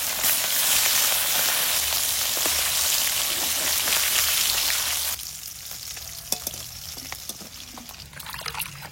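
Fish heads fry in hot oil for a Bengali fish curry, a loud, dense crackling sizzle that drops suddenly to a quieter bubbling fry with a few sharp pops.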